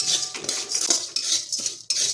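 A metal spoon scrapes and clinks against a pan while dried fenugreek, toor dal and urad dal roast in hot oil for sambar masala. The stirring is close, continuous and rhythmic, with no voices.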